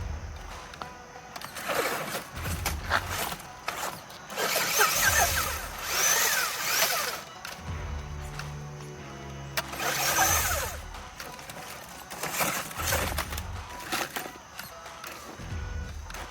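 Small electric motor of a WLToys 12428 rock racer RC truck on 100mm tires with 1.9-inch beadlocks, whining and surging in bursts as it drives in reverse off-road, close and fairly loud, with no talk.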